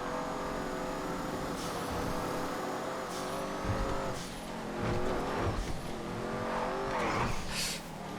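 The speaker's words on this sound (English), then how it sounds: "Pretty quick, this car. Certainly top speed wise." Race cars roar at high speed in the GTA FiveM racing game, steady engine drone with rising and falling pitch sweeps as cars pass, occasional tire squeal, continuous and loud throughout.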